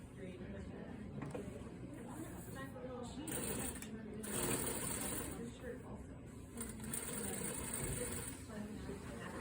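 A sewing machine stitches a dart in a shirt, its quiet mechanical whirr rising and falling in short runs while a person talks over it.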